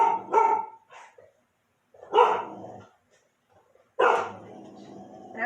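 A dog barks indoors in three loud, close bursts separated by short pauses, with a couple of softer yelps between them.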